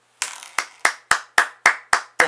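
Eight sharp, evenly spaced hand claps ring out one after another, close and crisp, each decaying quickly before the next, with no talking around them.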